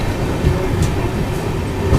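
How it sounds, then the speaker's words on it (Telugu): LHB coaches of the Palnadu SF Express rolling along the rails after leaving Sattenapalli, a steady loud rumble with a faint rhythmic clatter of wheels, heard from inside the carriage. "సో మన ట్రైన్ అయితే సత్తనపల్లి నుంచి డిపార్ట్ అయిందండి"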